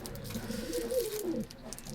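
A pigeon coos softly once, a low rolling call heard close against faint background noise.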